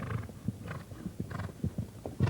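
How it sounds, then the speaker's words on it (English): A horse galloping and jumping on a cross-country course at horse trials, its hooves drumming in a quick, uneven clip-clop rhythm, fairly close and loud, with no voices. "That horse can jump"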